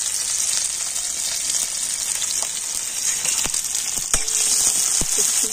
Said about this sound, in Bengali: পেঁয়াজ আর লঙ্কাটা তেলের উপরে আমি একটু ভেজে নেব।